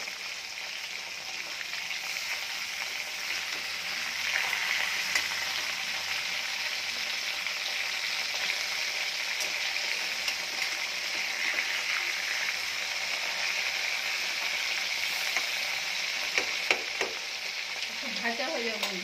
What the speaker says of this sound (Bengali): ভেজে নিব, ভেজে নিয়ে তারপরে মশলাটা দেবো।